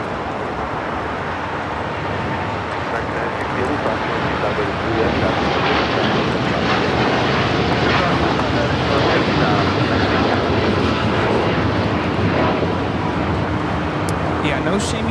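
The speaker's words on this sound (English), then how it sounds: "That was United Airlines 801 taking off to Hong Kong on the 787-9 Dreamliner" A United Airlines Boeing 787-9 Dreamliner departs LAX for Hong Kong, a dense, rushing jet roar that swells slightly and stays loud and continuous from start to finish.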